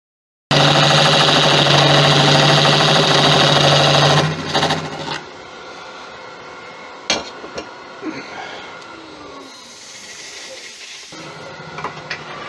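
A woodturning lathe rounds off a bowl blank for a Japanese Wan Nari style bowl, giving a loud, steady whirring cut that runs for about four seconds, then drops to quiet workshop clatter with scattered knocks.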